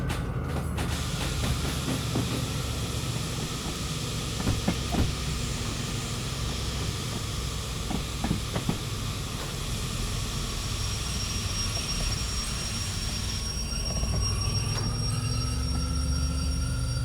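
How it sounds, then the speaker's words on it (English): Locomotives in the train simulator game Derail Valley hauling ore, with a continuous heavy rumbling drone and faint clanks and squeals that shift slightly in pitch as the camera moves. "Trying to get the camera to move so that we can hear those locos at the back."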